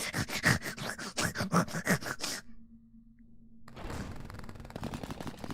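A voice imitates a pug's snorting with a quick run of rhythmic, rough snuffling bursts, followed by a pause and then low scratchy noise.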